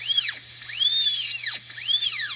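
A rotary carving burr bogs down on a duck eggshell. A high whining drill tone repeatedly sags and recovers in pitch over a low steady hum, close and fairly loud, with no talking.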